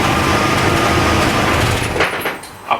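A cold Volkswagen Golf 1 GLI engine idles on choke, a steady broadband running drone that fills the clip before easing off near the end, with a brief knock at the close.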